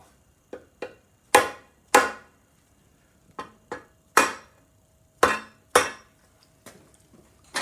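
Sharp metallic hammer taps with a red hammer on a part of a 1978 Alfa Romeo Alfetta GTV gearbox on a workbench, about a dozen close, ringing strikes in uneven pairs and singles with quiet gaps between.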